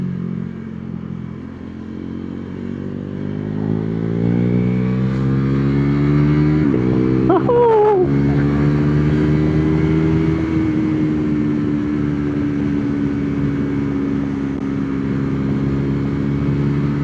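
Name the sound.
KTM Duke 390 motorcycle with Termignoni exhaust revving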